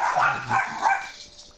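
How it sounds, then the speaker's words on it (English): Dogs barking in a home while a Minecraft game is being played: a few yappy, close barks in quick succession that fade out toward the end. "Well, sounds like your dogs are off."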